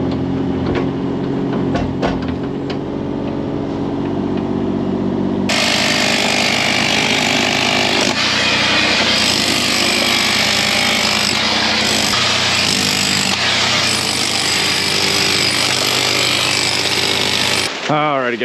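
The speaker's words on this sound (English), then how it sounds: "pull out the roto hammer like Abel was doing down there" A rotary hammer chips up hard-packed dirt in a stubborn corner during a house renovation, a loud continuous rattling hammer that starts partway in and runs steadily near the listener, with a lower mechanical drone before it.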